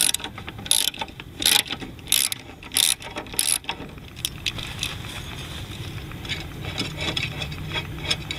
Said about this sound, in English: Now let's see if it'll be strong enough for me to get this bolt out.